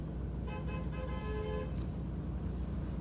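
A car horn sounds in a few short toots followed by a longer held blast, set against a steady wash of street traffic noise, moderately close.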